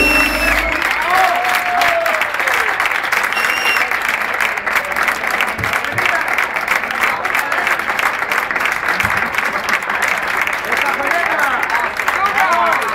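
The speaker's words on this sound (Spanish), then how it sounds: "Y ese fuerte aplauso para despedir a Glamen y sus chicas de Salsa y Punto" Loud, continuous applause from an audience sends off a salsa dance group, the close, thick clapping running unbroken for the whole stretch, with faint voices and a few cheers mixed in.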